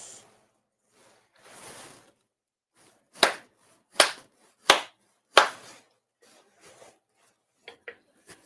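Four ritual hand claps at a Shinto-style grand ceremony: sharp, evenly spaced claps ring out in a quiet hall, preceded by soft rustling and followed by faint small clicks.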